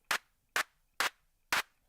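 Four sharp, evenly spaced hand-clap samples from a drum machine kit, triggered in Bitwig 5.3 music software, each bright and snappy with a short noisy tail, played alone with no voices.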